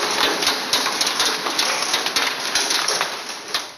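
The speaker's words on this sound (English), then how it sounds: "Pea-sized hail hit Indian Trail right about 6:30 this evening." Pea-sized hail from a derecho storm patters densely and steadily on furniture nearby, a constant rattle of small pellets with sharper individual clicks throughout.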